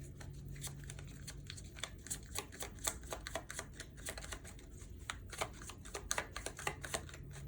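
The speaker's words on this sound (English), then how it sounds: "Let's go ahead and get a little shuffle Rooney to the extent I can" Playing cards are shuffled up close in a quiet room, producing rapid papery riffles and flicks in uneven bursts, with no one speaking.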